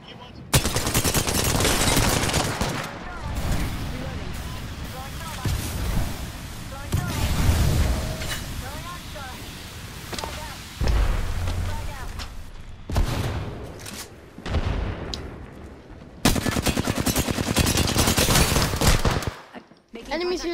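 Gunfire in the battle royale game Apex Legends comes as loud, dense automatic bursts and rapid volleys across the whole stretch, with brief lulls and players talking over it.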